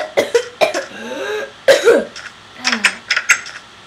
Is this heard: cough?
yes